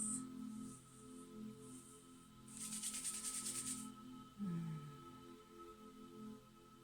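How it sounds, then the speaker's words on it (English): Two bare hands rubbed briskly together, a soft dry swishing friction in a few short bursts, the strongest lasting about a second in the middle, heard close against a faint background hum. "You can just rub your hands together like this."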